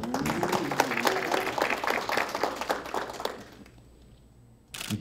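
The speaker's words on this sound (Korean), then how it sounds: "큰 박수" Applause from a ceremony audience as a singer is appointed city promotional ambassador in Jinju, South Korea: dense, sustained clapping for about three and a half seconds, then fading to near quiet before a fresh burst starts.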